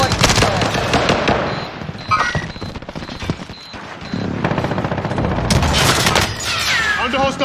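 Hostile gunfire in the Call of Duty Warzone video game: loud, dense bursts of automatic fire and booms, briefly thinning in the middle before heavy shooting resumes, with radio-style voice callouts mixed in.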